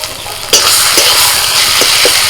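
Loud, steady sizzling from a frying pan with a few scraping strokes of a spatula stirring through a thick mash of potato and cauliflower with fried chillies and chopped coriander.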